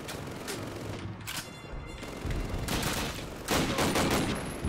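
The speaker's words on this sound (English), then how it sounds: "that gun is gonna be the death of me" Gunfire in the World War II shooter game Call of Duty: United Offensive, loud repeated shots and bursts over dense battle noise, with a heavier flurry toward the end and no talking.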